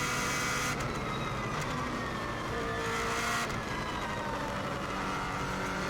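A Subaru WRX STI race car on the Isle of Man TT course roars loud and continuous, wind and road noise blended in, with brief shifts in engine note along the way.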